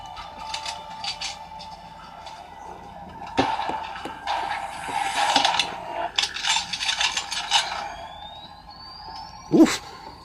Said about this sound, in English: Somebody's gun sound like it was charging up.